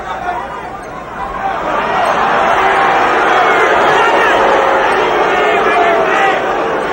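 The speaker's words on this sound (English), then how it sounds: "Crowd getting a little tired of that." A boxing arena crowd at a heavyweight title fight, Mike Tyson vs Tony Tucker, swells into a loud, sustained murmur with a disapproving booing edge, holding steady as a dense wall of voices throughout.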